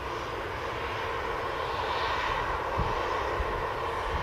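An Ethiopian Airlines airliner taxis at Manchester Airport, its engines giving a steady distant roar and whine that holds evenly throughout, with no voices.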